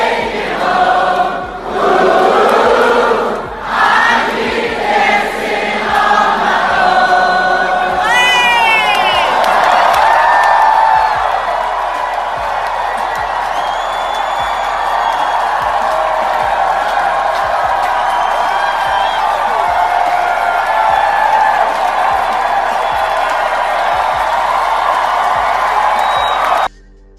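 A concert crowd cheers and sings along loudly, a dense roar of many voices with shouts and whoops rising over it, sustained for nearly half a minute before cutting off abruptly.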